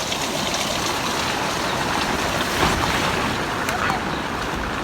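Water gushes steadily from a hillside spring, a continuous broadband rush that stays close and loud, with a voice speaking briefly over it.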